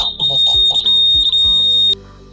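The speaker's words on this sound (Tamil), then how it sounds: "பஸர் சத்தம் கேட்கும்." An Arduino night security light's buzzer, set off by a PIR sensor, sounds a steady high-pitched electronic tone for about two seconds, loud and close, while someone talks over it.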